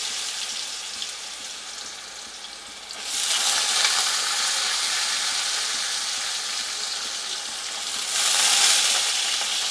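Small diced potatoes drop into hot oil with tempering spices for a Bengali cholar dal side dish, a steady close frying hiss that swells suddenly, holds, then surges again near the end.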